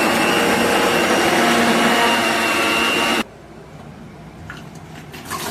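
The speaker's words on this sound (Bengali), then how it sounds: "এরপর মিক্সার গ্রাইন্ডে আমি নিম পাতাটাকে ভালো করে পেস্ট করে নিচ্ছি।" A mixer grinder whirs loudly and steadily as it grinds neem leaves into paste, running for about three seconds before cutting off abruptly and leaving faint handling noises behind.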